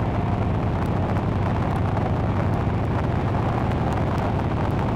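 A Moto Guzzi Stelvio motorcycle runs fast along a rough, potholed road, with its steady engine drone blending into constant, loud wind buffeting on the microphone and no voices.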